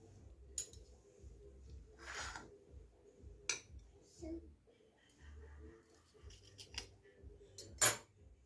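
Scattered clinks and scrapes of cutlery on a plate while cutting into a cooked vegetable egg omelette, faint and intermittent, with someone speaking between the sounds.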